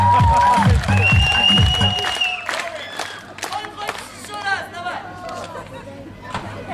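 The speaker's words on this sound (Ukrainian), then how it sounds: "Аплодисменты с героя!" An audience at the Caribbean World resort in Soma Bay applauds a man who has just sung. A crowd claps scattered and unevenly for several seconds, mixed with chatter and raised voices, and music fades out at the start.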